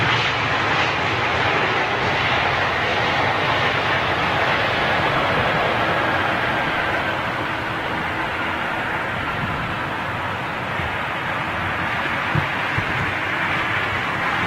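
An Airbus A320neo in old livery at Heathrow passes as a broad, steady engine roar, loud and continuous throughout, with no voices over it.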